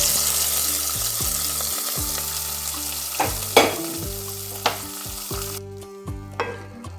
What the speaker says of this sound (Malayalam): ഇനി നമുക്ക് നെയ്യോട് കൂടി ഇതിലേക്ക് ചേർത്ത് കൊടുക്കാം പായസത്തിലേക്ക്